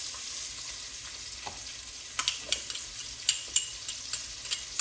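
Purple onion frying alongside bacon in a pan gives a steady sizzle, with a string of sharp crackles and pops growing more frequent toward the end, close and fairly quiet, with no voices.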